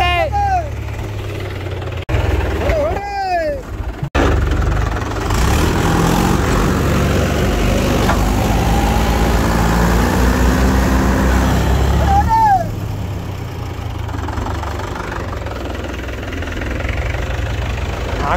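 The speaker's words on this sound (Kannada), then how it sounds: "ಅಯ್ಯೋ ಹೋಯ್ತು, ಟ್ರ್ಯಾಕ್ಟ್ರು ಉಣ್ಕೊಂತು." A tractor engine runs steadily and labours while the tractor is stuck in a waterlogged paddy field. The mid-low rumble holds throughout, with bird chirps and a person talking.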